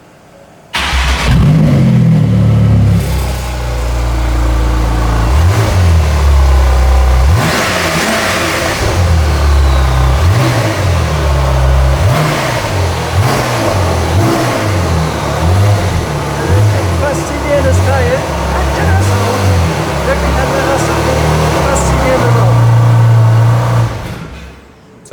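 Porsche 991 GT2 RS Weissach from 2018 with 10,000 km, its engine revved hard in repeated loud bursts that rise and fall close by, with brief pauses between the blips throughout.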